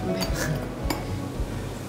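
Glasses of cool water clink together in a toast over a summer beef-and-vegetable soup meal at home: a couple of short, bright clinks close by, with faint clatter of dishes and no talking.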